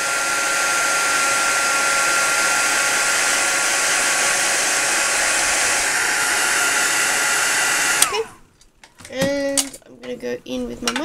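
Heat tool blowing hot air to set tacky glue on a handmade craft card, a loud steady whirring drone that runs for about eight seconds, then cuts off, followed by a few light clicks and clatters of handling.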